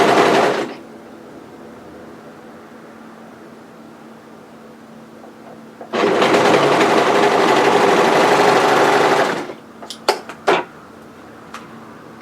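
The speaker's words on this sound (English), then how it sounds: "we just want to overlock all." An overlocker sewing a seam on a hoodie dress. A brief whirring burst at the start is followed, after a pause, by a longer loud buzzing run of about three seconds, then a few light mechanical clicks.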